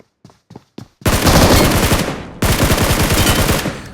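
Automatic gunfire in the mobile battle royale game BGMI: a few short single shots, then a loud sustained burst that breaks off briefly before a second long burst of rapid fire.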